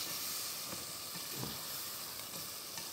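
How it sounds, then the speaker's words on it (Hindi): Spiced masala with ginger and garlic roasts in a pan, a dense steady sizzle and hiss at moderate level with a few soft stirring scrapes, heard close and without talk. "बहुत एहतियात से पैन को पकड़ के आपने इस मसाले की भुनाई करनी है"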